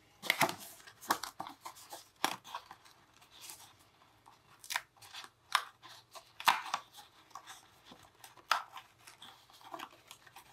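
Paper banners are pulled free from a die-cut cardstock sheet in a quiet crafting setting, giving scattered sharp tearing and rustling bursts at irregular intervals, close and soft, with near silence between.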